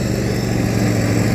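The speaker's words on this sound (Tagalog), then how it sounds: "They're using lawn mower." Lawn mower trimming grass at the Savannah oval, a continuous buzzing engine drone, fairly loud and steady throughout with no pauses.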